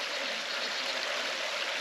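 Creek water rushing steadily over rocks, a broad, continuous close-up flow with no talk, heard while people wade through the creek on a fossil-hunting walk.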